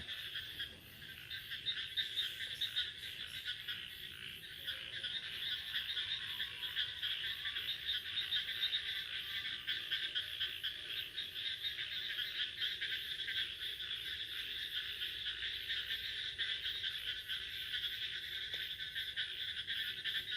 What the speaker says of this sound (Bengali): ব্যাঙ যাচ্ছে